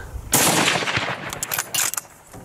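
Gunfire during a deer hunt on a Spanish montería: a rapid burst of loud, close shots, with a few sharp follow-up reports trailing off after it.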